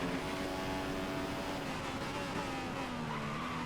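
A Formula 1 car engine in F1 2015 at Silverstone gives a steady, high, whining roar as it accelerates, its pitch climbing gradually, at moderate volume throughout.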